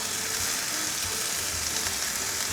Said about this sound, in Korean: 이때도 마찬가지로 중불에서 계속 볶아주시는 거예요